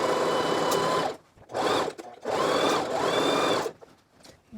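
A sewing machine stitches a skirt in close, fast whirring runs, stopping and starting several times with short pauses between bursts as the fabric is turned at a corner.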